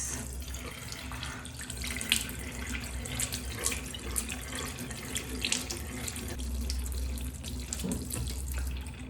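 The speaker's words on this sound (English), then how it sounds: "Okay, so I am going to wash my face." Water runs steadily from a bathroom tap into a sink while a face is washed to test waterproof kajal, a continuous close splashing stream with small shifts in flow and no talking.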